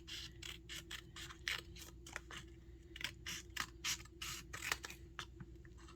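Scissors snip through folded craft paper for a Valentine's Day project: a quick series of close, quiet, crisp cuts in an irregular rhythm over a faint steady hum, with no talk.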